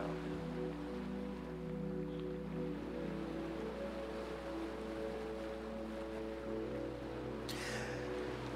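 Ocean surf rolls and washes steadily in the background, a continuous broad wash under low sustained tones, with a brief brighter splash near the end.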